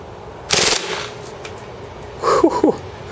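A KWA NS2 MP9 airsoft gun set to full auto fires one quick, sharp burst of rapid shots, followed a moment later by a brief cluster of lighter mechanical clicks and rattles.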